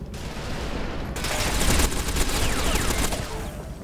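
Gunfire in the video game Warface on the Tomsk map: after a brief lull, bursts of rapid automatic shots crackle loudly and continuously, layered and close, with no speech over them.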